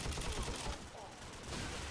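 Rapid bursts of rifle gunfire in Call of Duty Modern Warfare crackle steadily through a dense, noisy game soundscape, loud and continuous across the whole moment.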